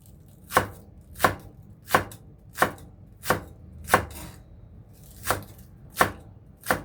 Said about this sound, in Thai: เราหั่นให้ละเอียดเลยนะคะ